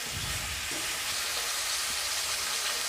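Chopped vegetables and whole green chilies fry together in a kadai for sukta, giving a steady broadband sizzle throughout with a few soft stirring knocks near and up close.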